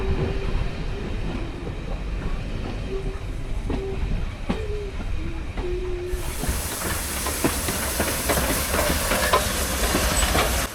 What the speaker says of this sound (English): Our locomotive was again running round the train to take happy passengers back down to Chinnor